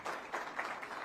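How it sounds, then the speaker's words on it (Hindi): Audience applause at a Haryana felicitation event with the Chief Minister present, a fairly faint, steady wash of clapping from a crowd lasting about a second with no voices over it. "बार जोरदार तालियां"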